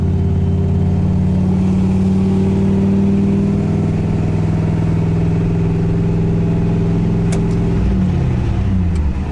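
A truck's engine runs steadily near the microphone, rumbling with a strong low drone, then shifts pitch as it revs and changes speed toward the end, with no talking over it.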